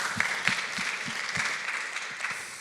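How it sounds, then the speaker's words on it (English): A live audience at a discussion event applauds in a steady, dense wash of clapping that stays fairly even throughout, with a few louder claps standing out near the front. "Round of applause."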